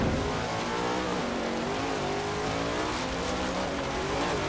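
A 1956 Ford F100 pickup with a big 460 V8 in Forza Horizon 3 drones steadily under load, its engine pitch climbing gradually as it accelerates, loud and continuous with no talking.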